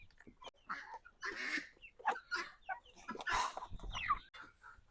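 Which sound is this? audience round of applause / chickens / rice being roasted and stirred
chickens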